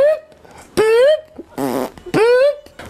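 A man imitates a fart with his mouth, producing several buzzing, sputtering raspberry-like blasts in quick succession, loud and close, separated by short pauses.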